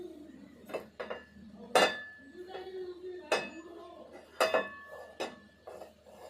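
A pan being set on the stove and handled for uthappam, giving a series of metallic clinks and knocks spaced irregularly, with soft speech between them.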